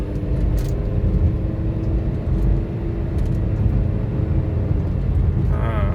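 A Honda BR-V with a newly replaced CVT belt pulls away and drives gently, its engine and road rumble steady and fairly loud from inside the cabin, with no talk heard.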